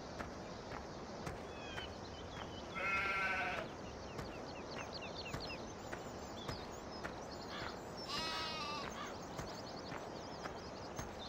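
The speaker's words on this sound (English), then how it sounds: "Well, that's a sheep anyway." Two sheep bleats, one near the start and one later, over a steady background of soft footsteps and ambient noise, in the video game Farming Simulator 17.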